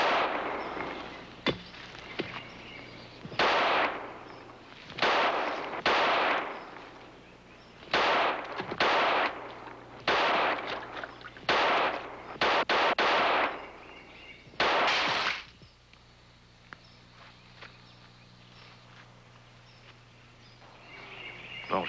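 A string of loud gunshots from a fancy gun in a 1975 outdoor scene, a dozen or so sharp reports spaced unevenly over fifteen seconds, then quiet ambience with a distant tonal hum.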